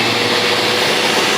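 A Sebo Evolution 300 commercial upright vacuum cleaner running: a loud, steady motor whir and rushing airflow, constant throughout with no talk.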